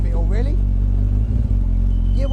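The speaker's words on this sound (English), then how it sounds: "So obviously it's a bit noisy being a bike engine" A loud turbocharged Suzuki Hayabusa motorcycle engine, about 450 bhp, runs steadily with a deep low rumble, close by, while someone talks over it.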